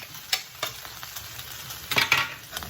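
Food being broken up and stirred in a hot frying pan: several sharp spoon scrapes and taps against the pan, close and fairly loud, over a soft continuous sizzle. No one talks.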